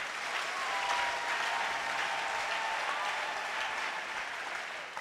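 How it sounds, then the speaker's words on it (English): A church congregation claps their hands together in steady, sustained applause that fills the room, with no voices standing out. "If you want to clap your hands, go ahead and clap."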